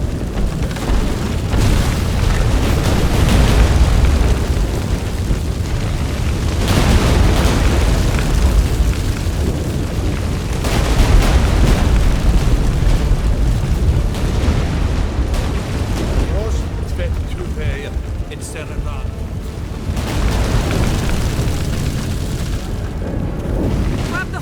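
Deep, continuous rumbling of an earthquake in the video game The Witcher 3: Wild Hunt. The rumble is loud and sustained, with heavy low booming swells rising and falling throughout, and dramatic game sound layered on top.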